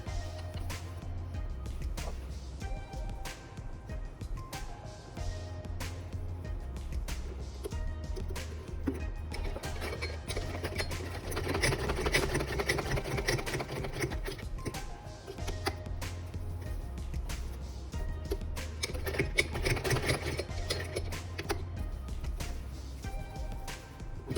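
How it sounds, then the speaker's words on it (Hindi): A sewing machine stitches a strip of fabric onto a kurta, a steady close rapid ticking hum that runs nearly unbroken, swelling slightly in the middle and near the end, with no talk over it. "दो तीन सिलाई करके इसको मैंने पक्का कर दिया।"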